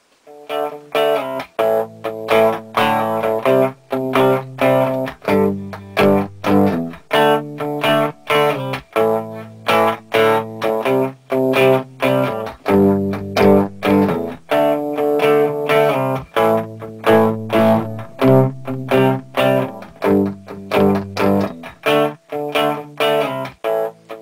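Distorted electric guitar through a Marshall JCM800 tube amp on its low input plays chugging, rhythmic chords in repeated bursts with short gaps, loud and close, with no voices.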